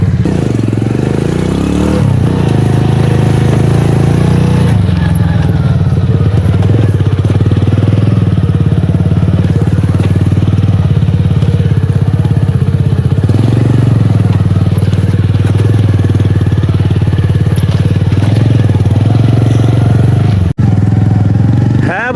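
A motorbike engine drones loudly and continuously while riding over a sandy riverbed, with revving swells and clattering, and someone talks over it.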